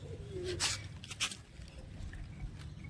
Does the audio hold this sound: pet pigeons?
yes